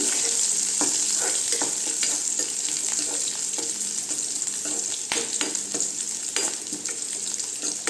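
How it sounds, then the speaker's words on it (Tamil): Onions and curry leaves sauté in a pan for a Tamil banana-flower kootu, a steady close sizzle and hiss with scattered sharp crackles and spoon scrapes running throughout, no voices. "கருவேப்பிலை சேர்த்துக்கலாம் வெங்காயம் நல்லா வதங்கட்டுங்க"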